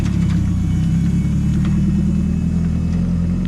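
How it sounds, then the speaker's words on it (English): A budget-built Ford Fiesta Mk2 with a turbocharged Zetec engine drives along a private lane, its engine rumbling loud and steady, low and close, throughout. "It's not actually been driven, so Ollie's going to take it for a little spin."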